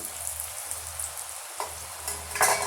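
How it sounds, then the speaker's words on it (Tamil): Garlic murukku dough made with gram flour frying in hot oil, a steady soft sizzle with a few brighter crackling bursts near the end, close and alone with no voices. "ஆயில் நல்லா சூடாயிட்டு வந்துருச்சு இப்போ நம்ம எடுத்து வச்சுருக்க மாவு வந்து அப்படியே நம்ம சேர்த்து விட்டுடலாம்"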